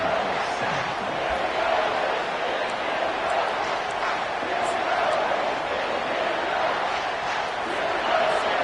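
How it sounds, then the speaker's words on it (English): Stadium crowd noise in an NCAA football video game, a steady dense roar of fans at even loudness throughout, broad and distant-sounding with no distinct cheers or claps standing out. "this crowd is making it miserable on this offense"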